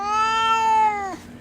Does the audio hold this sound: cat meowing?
yes